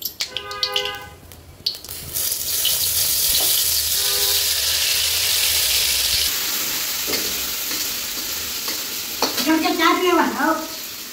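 Cumin seeds crackling in hot ghee in a kadhai, a broad steady sizzle running for several seconds, with brief tonal sounds and clatter at the start and a voice-like burst near the end.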